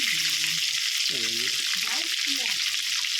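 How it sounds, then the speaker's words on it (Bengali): Whole crabs fry in hot oil and are stirred until they turn red. A constant bright sizzle runs throughout, with a voice talking over it intermittently. "এটাকে একটুখানি ঘুরিয়ে দিচ্ছি, এগুলো লাল লাল করে ভাজতে হবে"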